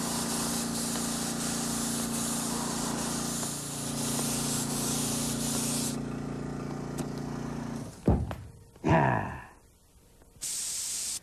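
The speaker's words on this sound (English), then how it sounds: "and you're ready to spray" A spray gun lays a coat of lacquer onto furniture with a steady, close hiss of atomised spray for several seconds. It then stops, followed by a few brief handling knocks and a short final burst of hiss.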